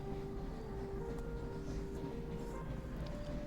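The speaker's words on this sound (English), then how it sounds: "Oh my god, sorry about the train." A loud train rolls past outside, a constant heavy low rumble with a faint steady whine, even and unbroken, with no talking.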